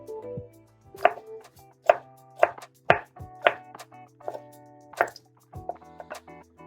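Knife chopping through eggplant on a cutting board, about ten crisp separate cuts at an uneven pace, close and fairly loud with no talking.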